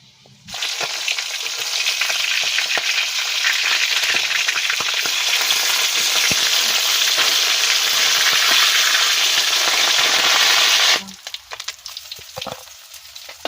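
Food frying in a pan at home gives a loud, steady sizzle that holds evenly for about ten seconds, then cuts off abruptly, leaving faint background clatter.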